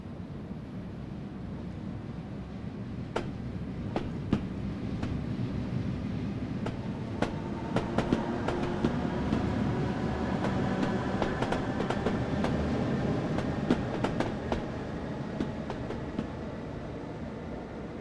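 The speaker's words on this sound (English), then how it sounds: "I remember reading somewhere that the motor recordings are from a Class 455" Electric multiple unit motor of a Class 303 EMU in the Train Simulator game, recorded from a Class 455: a steady rolling rumble with rising whine tones and sharp rail clicks scattered throughout, fairly close and without speech.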